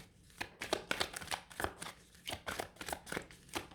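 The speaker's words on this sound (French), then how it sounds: "Je vais aller remettre une carte sur cette reine d'épée." A deck of tarot cards is shuffled and drawn in a quick, steady run of short papery bursts at close range, with no voices.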